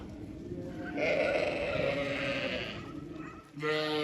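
Imported pregnant breeding sheep in a pen bleating, with a long wavering bleat up close followed by another sharp call, over low background noise.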